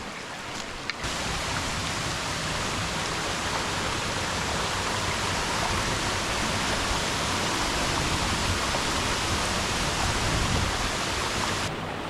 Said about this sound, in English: Have one last look at the waterfall.